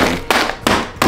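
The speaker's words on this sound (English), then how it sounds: "You grab the hammer, and you beat that thing." A hammer beats a hardened clump of pre-workout powder in three sharp, loud, evenly spaced blows, each crack ringing briefly before the next strike.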